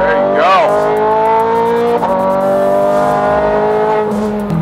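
A Ferrari 430 Scuderia trail braking into a corner on a racetrack, its engine pitch falling and rising as it runs close and loud, with brief tire squeal and a voice talking over it.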